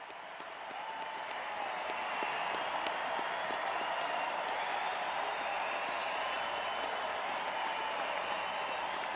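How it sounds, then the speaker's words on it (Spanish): A large crowd applauds steadily and continuously as a figure departs, a dense wash of clapping that swells slightly at the start and then holds at a loud, even level throughout. "la multitud aplaude durante 5 minutos su salida"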